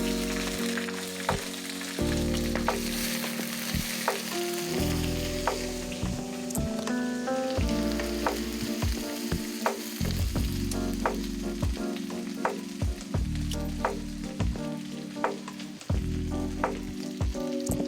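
Round-sliced onions fry in oil left over from making crispy fried onions (beresta), a loud steady sizzle with bursts of stirring and clinking running throughout, no voices.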